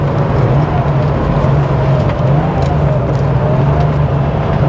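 A 1988 Porsche 911 Targa on the move, its engine droning steadily and loud throughout with a constant low hum and road rumble, no talking.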